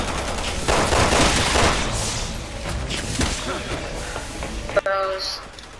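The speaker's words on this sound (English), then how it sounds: "This machine gun is not very accurate." A machine gun fires in the video game Resident Evil 6: a steady, dense stream of rapid shots with booms mixed in, lasting the whole stretch, and voices talking over it.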